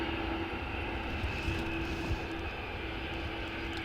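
Aer Lingus airliner at Dublin Airport, its engines producing a steady, continuous roar with a faint tonal whine, heard from a distance outdoors without any talk.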